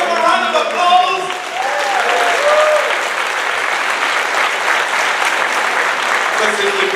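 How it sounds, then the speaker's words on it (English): Audience at a children's performance breaking into loud, sustained applause that fills the room, with a few voices rising over the steady clapping at the start. "Can we give them a round of applause?"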